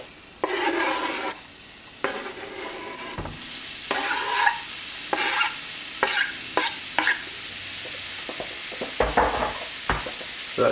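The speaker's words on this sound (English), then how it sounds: "just by throwing in a little bit of onion, and based off the sound, that sounds like it's hot enough to me." Onion and garlic sizzle in a hot pan with a steady hiss, broken by intermittent scraping and stirring knocks as the pieces are moved around; no voices.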